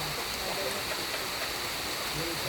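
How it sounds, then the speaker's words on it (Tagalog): Steady heavy rain pours as a dense, even hiss that fills the whole moment, with no breaks and no voices over it. "Nabot po kami ng ulan."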